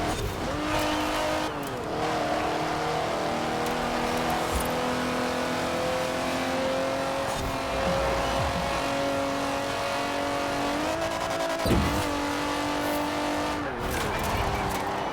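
A BMW 850CSi, a heavy torque-rich car in Forza Horizon 4, drives hard with a steady droning engine note that rises and falls through gear changes, with brief tire squeal during cornering, loud and continuous throughout.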